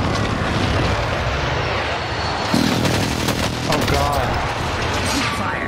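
Sustained gunfire rattles through a team-based video game firefight, dense and continuous with occasional louder bursts, under a steady rumble of battle noise and voices talking over it.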